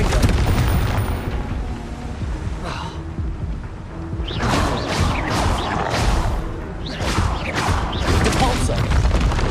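Explosive spell blasts from Confringo in the Hogwarts Legacy video game, several booming bursts with whooshing crackle over busy game ambience, loud and close, with voices speaking in between.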